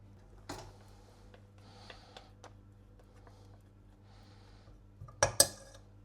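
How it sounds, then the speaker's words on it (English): A metal spoon scrapes and taps against another spoon to clear off flapjack syrup, faint clinks scattered through a quiet kitchen before a sharper double clatter near the end. "I'm going to use a spoon to get syrup off the spoon."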